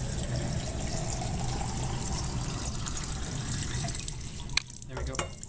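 Water spouts from holes at three heights in a container during a fluid pressure experiment, making a steady splashing, trickling stream throughout with a few sharper knocks near the end; a person talks faintly in the background.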